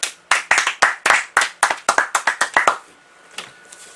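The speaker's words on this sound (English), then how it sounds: "let's give him a round of applause" Around fifteen sharp hand claps, close and fairly quick but slightly uneven, from just one or a few people, stopping abruptly and followed by near silence with a faint knock.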